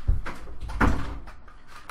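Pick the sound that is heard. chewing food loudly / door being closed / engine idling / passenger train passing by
door being closed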